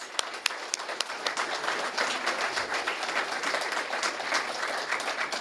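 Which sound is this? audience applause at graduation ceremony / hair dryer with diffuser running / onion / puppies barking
audience applause at graduation ceremony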